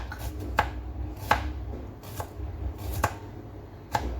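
Knife chopping onions on a board for chicken adobo, sharp isolated chops spaced roughly every second, close and clear with no talk.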